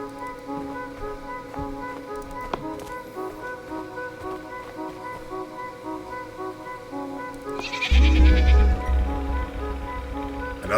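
A sheep bleats in the video game Sword & Sworcery, its wavering cry set against a tonal musical drone, with a louder low burst of game sound near the end.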